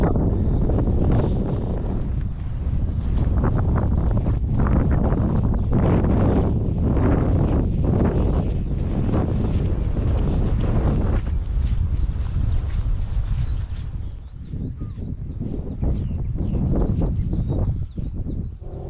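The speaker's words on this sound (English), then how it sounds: "It's getting a bit breezy and chilly now" Strong wind buffets the microphone on an open hilltop along a hike near Alfriston in the South Downs, a constant loud rumbling roar that eases slightly toward the end.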